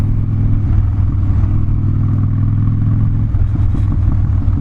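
A 2014 Harley-Davidson Dyna Street Bob V-twin rumbles while riding, a loud, deep, pulsing engine throb that stays steady, with a slight change in the beat near the end.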